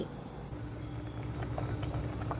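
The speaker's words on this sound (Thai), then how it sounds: "แล้วก็เคี่ยวให้ผักกับปลาเปื่อยได้ที่" Salmon with vegetables, including carrot, simmers in a soy sauce broth, giving a steady low bubbling and soft popping that stays constant and close, with no talk.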